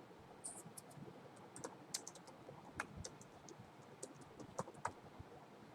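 Keys tapping on a computer keyboard while a search is typed into a web browser, quiet irregular clicks in short bursts against a faint room hiss.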